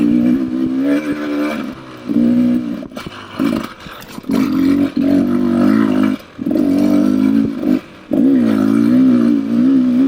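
A 2024 Beta 300RR Race Edition two-stroke dirt bike ridden on a cross-country trail, its engine roaring loud and close with repeated throttle surges and brief drops as the rider shifts and eases off.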